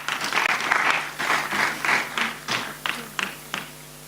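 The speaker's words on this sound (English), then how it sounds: "Another round of applause, ladies and gentlemen." Forum panel audience at a space innovation and investment event in Kenya applauds in several bursts of clapping, loud and close at first, then breaking into shorter, sparser rounds of claps.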